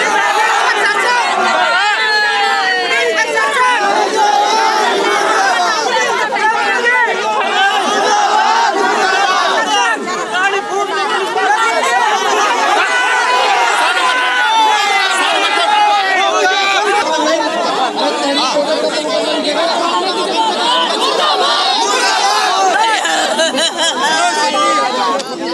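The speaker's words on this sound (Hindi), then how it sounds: "गुस्साई भीड़ ने सड़क जाम कर दिया।" An angry roadside crowd blocks the road at Mahadeva market after a truck accident, loud shouting and overlapping voices forming a dense, continuous roar of agitated chatter throughout.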